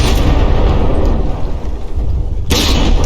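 Battleship guns firing in From the Depths make heavy booming, rumbling blasts with a continuous low roar and a sharp, loud impact near the end.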